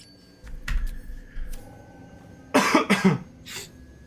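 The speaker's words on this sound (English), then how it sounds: "I wish this cough would go away." Several harsh coughs burst out, a couple of faint ones early, then a loud cluster of two or three coughs close to the microphone.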